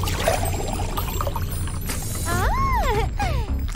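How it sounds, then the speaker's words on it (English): Water, mixed with glitter, pours into an emptied jar for a craft, a steady close pouring wash followed by rising, bubbling gurgles as the jar fills, heard alone without talk. "fill it up with glitter and water."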